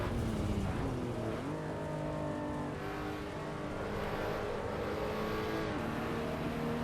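A GT race car engine, a GTM, in the Assetto Corsa EVO racing game: a loud, sustained high-revving engine note with rising and falling gear sweeps as the car closes in and passes, continuous throughout.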